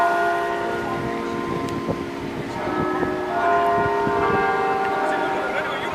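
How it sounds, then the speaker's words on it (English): A tram passes along a street in light rain with its bell ringing, giving tonal clangs and hums over a continuous rumble of wheels and traffic. "And we've got the trams running."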